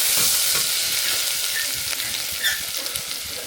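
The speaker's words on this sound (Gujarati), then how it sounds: "લીલા મરચાં અને આદું નાખી દઈએ આપણે. ધીરે ધીરે મિક્સ કરી દઈએ." Green chillies and ginger stirred slowly in a hot frying pan with oil and burnt mustard seeds, giving a steady close sizzle with soft scraping strokes throughout.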